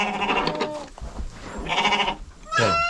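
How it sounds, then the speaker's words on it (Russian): Sheep bleat in a livestock shed, three distinct wavering calls close by, separated by short pauses filled with low shuffling noise. "Так, давай, овцы, выходим."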